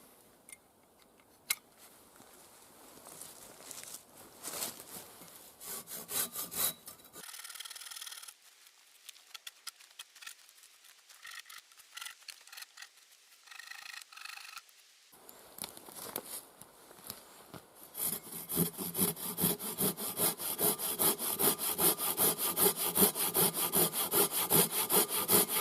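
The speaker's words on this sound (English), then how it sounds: "I'll do the top branches first, and then I'll cut it in half." A Silky Outback saw blade cuts through tree branches in rhythmic back-and-forth strokes, close and clear. A short pause is followed by faster, denser sawing toward the end.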